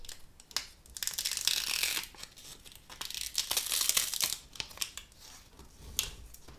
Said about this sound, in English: So now I'm going to lift this up and I'm going to start to peel